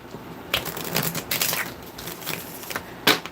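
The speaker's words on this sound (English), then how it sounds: "One more butterfly shuffle." Tarot cards riffled in a butterfly shuffle, a run of crisp papery flutters and clicks building to a sharp final snap near the end, close and clear with no talking.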